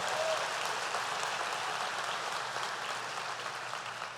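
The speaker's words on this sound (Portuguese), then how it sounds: "Dá uma salva de palmas ao Senhor." A church congregation claps together in a steady, even wash of applause that fills the room and slowly fades a little over four seconds, with no voices standing out.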